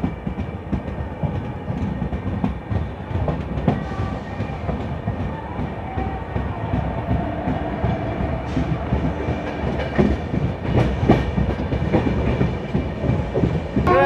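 An LHB coach train, the 22388 Black Diamond Express, departs Sitarampur station, with a loud continuous rolling rumble and rhythmic clickety-clack of wheels over rail joints passing close by, alongside squeals and hum.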